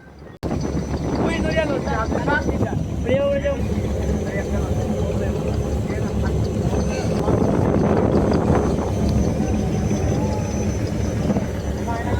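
The large passenger launch MV Kirtonkhola 10 cruises on the river between Dhaka and Barishal, with a steady engine rumble, water and wind noise throughout and someone narrating over it.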